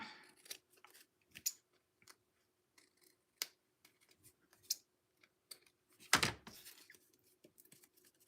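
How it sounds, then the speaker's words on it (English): Scissors snip paper edges for a scrapbook page in short, scattered cuts, quiet and close, with one louder longer cut near the end and no talking. "Cut the edges off of that."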